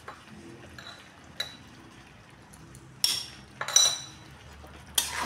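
A spoon stirs garam masala and black pepper powder in a cooking pot, giving a few sparse metallic clinks and scrapes against a quiet background.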